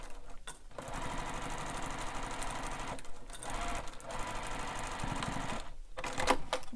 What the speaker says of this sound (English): now we're going to baste stitch this bottom edge together